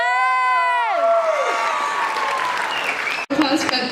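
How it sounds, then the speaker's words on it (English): Crowd at a high school Black Student Union presentation claps and cheers after a poem, a sustained wash of applause with voices over it, including a sliding sung or shouted tone early on. "Applause for that beautiful poem."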